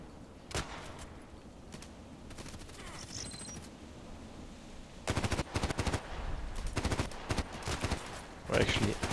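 HK417 rifle fire in a shooter video game, a tight sequence of loud sharp shots in rapid succession midway through, with occasional single reports and a voice speaking between them.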